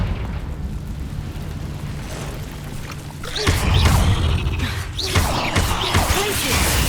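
Confringo blasting spell going off in the Hogwarts Legacy video game, a loud booming burst that swells into sustained rumbling blasts with crackling debris over a game soundscape.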